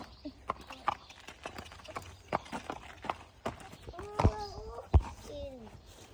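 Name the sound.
horse hooves walking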